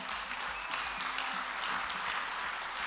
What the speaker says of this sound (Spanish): ayúdame a darle otro fuerte aplauso a todo nuestro precioso equipo de voluntarios